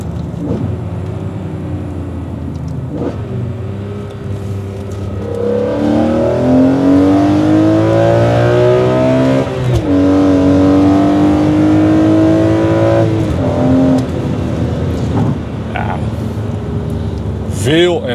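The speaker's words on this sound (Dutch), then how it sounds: "Nou hoor je hem echt tetteren gewoon. En komen die throttlebodies eindelijk echt tot hun recht." A BMW with a sport intake and throttle bodies revs repeatedly, loud and close, in a workshop. The engine climbs and drops in rising sweeps, and someone talks over the idle before and after.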